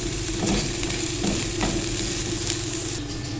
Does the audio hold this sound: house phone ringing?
no